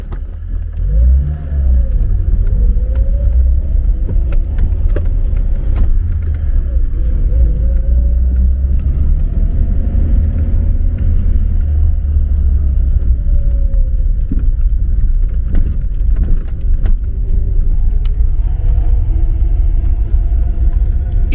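A car drives along a road near the Three Wells spot in the Lokhvytsia area, on the way between Sumy and Kyiv. A loud, steady engine rumble and road noise run throughout, with the pitch rising and falling as it speeds up.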